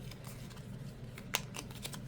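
Snapping riffles and short papery flutters from a deck of cards being shuffled by hand, a few sharp bursts close by with no talking.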